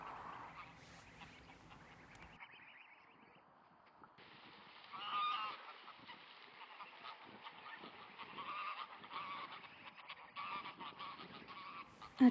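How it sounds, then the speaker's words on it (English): Greylag geese honking outdoors on a summer wildlife walk: repeated nasal honks and calls from a group of birds, near and fairly loud, growing busier toward the end. "I had great fun here watching the greylag geese."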